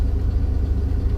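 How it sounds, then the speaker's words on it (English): A car with a worn exhaust system in need of replacement rumbles loudly while driving, a close, steady low engine drone with no other sounds. "It could probably use a new exhaust system and all kinds of other stuff. It's loud."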